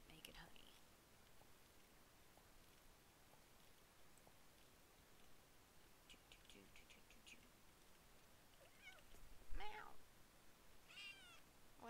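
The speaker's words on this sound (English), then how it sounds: "Oh, it's a meow. Why are you meowing at me?" A cat gives a few short, soft meows amid faint rustling and quiet background noise, one call slightly louder near the end.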